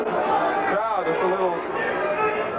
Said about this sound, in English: little booing there over that movement